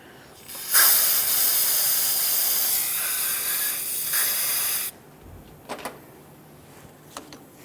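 Aerosol parts cleaner sprays into the caliper slider ports of a 2007-2017 Jeep Wrangler rear brake, a loud, close hiss lasting about four seconds, followed by faint clicks and handling noises.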